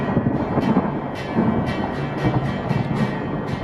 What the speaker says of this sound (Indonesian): suara keras pada guntur